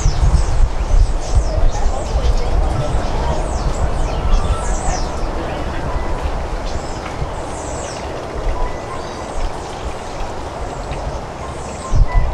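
Birds in the Butterfly World aviary in Coconut Creek, Florida chirp and whistle repeatedly over a loud constant rumbling background, their calls clear but partly masked.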